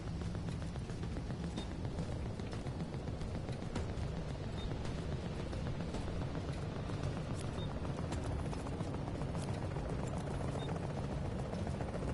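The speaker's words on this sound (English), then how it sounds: "chopper is inbound." Helicopter arriving in The Division, a steady rotor throb and engine roar filling the whole stretch, loud and continuous with faint scattered game sounds mixed in.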